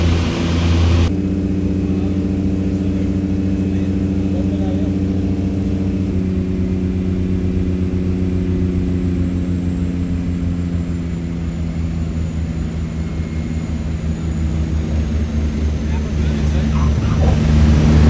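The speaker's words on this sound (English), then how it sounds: "So, finally got a flight out from Lukla down into Ramechhap." Small propeller plane in flight from Lukla down to Ramechhap in Nepal, a steady loud droning engine hum heard from inside the cabin, continuous throughout with slight pitch shifts.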